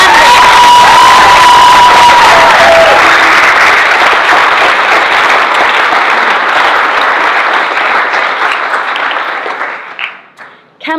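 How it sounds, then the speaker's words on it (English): A school audience at a grade 10 personal project presentation bursts into loud applause with cheering and whoops, the claps dense at first and then thinning out and fading near the end. "Let's give one more round of applause to our outstanding..."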